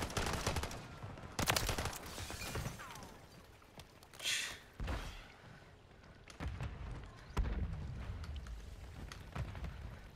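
Rapid bursts of gunfire in a Call of Duty match, played on the Rundown map, with several loud volleys and single shots spread across the clip and brief quieter gaps between them.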